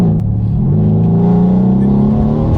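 A Mercedes-AMG C63 S coupe's V8 engine and exhaust, fitted with downpipes and making 530 wheel horsepower, rumbles deep and loud from inside the car, holding a steady, throaty drone with a slight rise in pitch.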